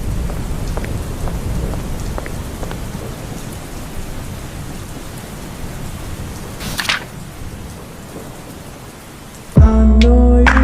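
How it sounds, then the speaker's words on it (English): Heavy rainfall from an animated Growtopia film pours steadily as a dense, loud wash, with a brief swelling gust near the middle before a bright musical tone abruptly cuts in at the end. "Another heavy rainfall again?"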